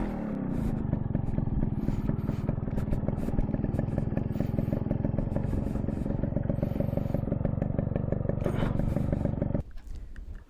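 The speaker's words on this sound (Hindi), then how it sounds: "मेरी बाइक स्लोप पे थी, इसलिए मुझे पार्किंग थोड़ी सी स्टाइल में करनी थी।" A motorbike engine runs with a loud, steady throbbing idle close by while being parked on a slope, with some clatter, before cutting off abruptly near the end.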